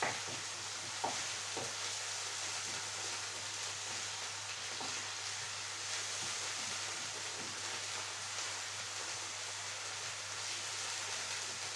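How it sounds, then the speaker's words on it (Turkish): 500 grams of ground beef sizzles steadily in a hot pan, a constant crackling hiss with a few soft clinks, no talking. "Kıymamızı güzelce kavuruyoruz."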